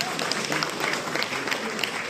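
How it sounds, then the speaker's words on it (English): Audience applause at an international data science and AI conference during a felicitation, a steady, fairly faint patter of clapping from a crowd that keeps up evenly throughout. "The applause are not getting loud."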